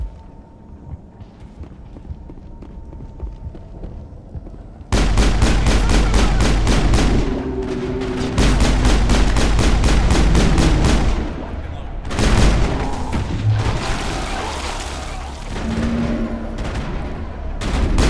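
Rapid automatic gunfire in Mass Effect on the Xbox 360, steady bursts of shots that go on for several seconds, close and loud, with short pauses between volleys.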